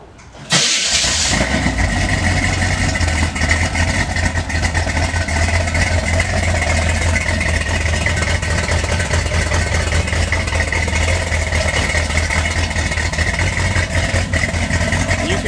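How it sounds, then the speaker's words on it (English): A 1971 Corvette with a 454 engine cranks and fires after a moment of quiet, then settles into a loud, steady, rumbling idle that holds for the rest of the stretch, with a brief voice under it. "So let's go ahead and start this guy up, man."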